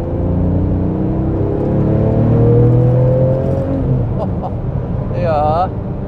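A 2010 Porsche 997 GT2 RS with manual gearbox accelerates from inside the car, a loud engine drone climbing in pitch before easing off, with brief voices and a short squeak near the end.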